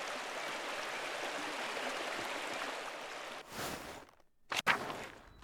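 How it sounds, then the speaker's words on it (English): A waterfall in the video game Pentiment pours as a steady, dense rush of water, then cuts out abruptly near the end, leaving a few brief clicks. "The waterfall is always so beautiful."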